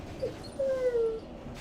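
A puppy whimpers in a drawn-out, high-pitched whine after a short yip, fairly close and clear, with a faint background hum and no talking.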